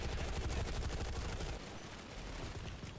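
Rapid automatic gunfire in the sci-fi shooter Planetside 2, a fast rattling stream of close, loud shots that drops to quieter, sparser fire midway.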